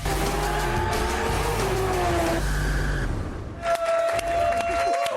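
A car pulls away at the Long Beach Grand Prix street race, engine revving through rising gear tones with tire noise, a loud nearby run and a brief dip before another pass; a voice is faintly present.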